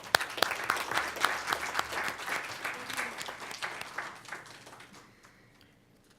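An audience at a school board meeting applauds, starting strong with distinct close claps and thinning out over a few seconds until it fades to near silence.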